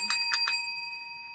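A bright bicycle-style bell sound effect rings three times in quick succession, then its tone lingers and fades, heard alone.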